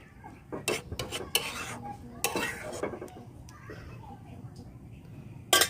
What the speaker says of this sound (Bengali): এখন নাপাটা আমি ঘাইটে দিচ্ছি।